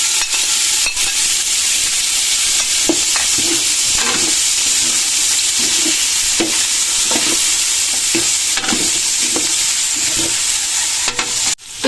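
Meat for a soup sizzles and fries in a hot pot while being stirred, a steady bright hiss with repeated scraping strokes of the spoon, close and loud with no talking.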